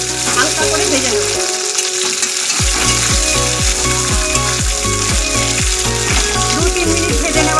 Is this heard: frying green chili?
yes